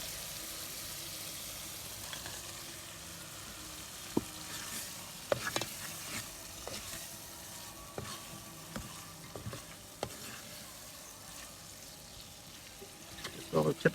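Brain (magaz) stirred into oily, fried masala in a pan, with a low continuous sizzle, scattered clinks and scraping stirs, and a voice talking faintly over the cooking.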